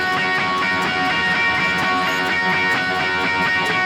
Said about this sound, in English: What I'm going to do is just play through the whole segment along with the licks